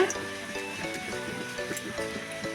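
Cumin, panch phoron, chopped ginger and curry leaves sizzling in hot oil, a soft steady crackle beneath a voice speaking Bengali close by.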